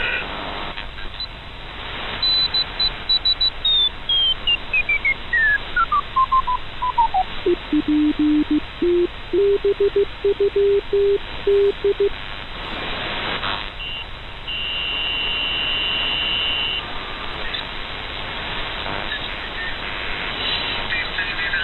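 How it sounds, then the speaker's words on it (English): HF amateur radio signals in CW Morse and data modes come through a receiver as a sweeping tone and then a run of rapid keyed beeps, all over steady radio hiss. "So some active hams on CW and data mode."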